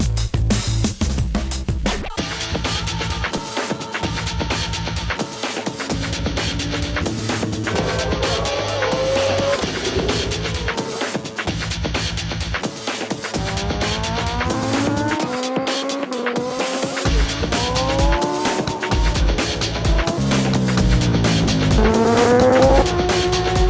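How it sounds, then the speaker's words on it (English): World Superbike motorcycle ridden hard on a race track, a loud, close engine screaming through rising and falling revs with repeated gear changes and throttle blips for over twenty seconds. "now it's time to go and ride my bike"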